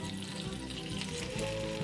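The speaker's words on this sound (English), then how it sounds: "our bacon's sizzling a bit" Bacon sizzles and crackles steadily in a frying pan, a close, continuous hiss with small pops and no talking.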